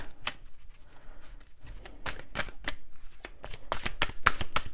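A deck of oracle cards is shuffled up close, with quick crisp riffles and slaps in an uneven rhythm that grows busier toward the end, heard alone with no talking.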